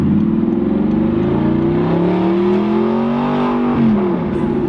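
A straight-piped Audi R8 revs hard nearby, its loud exhaust rising in pitch over a few seconds and then dropping back, with no talking.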